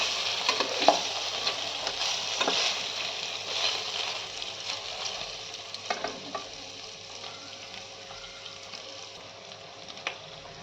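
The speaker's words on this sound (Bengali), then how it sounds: "এবার সমস্ত পনিরগুলো দিয়ে দিচ্ছি। পনিরগুলো হালকা ফ্রাই করে নেব।" Paneer pieces sizzle and crackle steadily in hot oil in a pan, a close, continuous frying hiss with occasional sharper pops that slowly eases and quiets toward the end.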